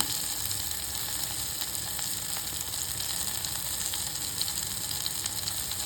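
Whole green chillies and curry leaves sauté in hot oil in a pan for a traditional Tamil mango koozh, giving a steady, close, even sizzle and crackle throughout with no talk.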